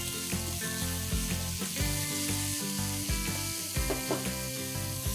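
Chopped spinach hitting a pan of fried onion, frying with a steady close sizzle and some clatter of stirring, with no talking.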